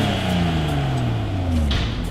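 A BMW X7 fitted with a new body kit exhaust revs with a steady low engine drone whose pitch slides down, close and continuous throughout.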